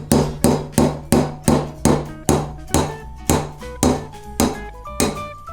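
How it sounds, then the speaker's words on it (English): A hammer strikes a nail into a wine bottle cork about a dozen times in a steady rhythm, each blow sharp and ringing, close and loud, the pitch rising as the nail sinks. "then I'm going to hammer it in using the nail"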